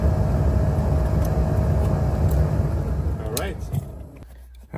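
The blower motor fan of a 2010–2017 Chevrolet Equinox running at high speed, a loud, steady broadband whoosh and rumble that holds for several seconds and then winds down near the end, with a voice talking over it.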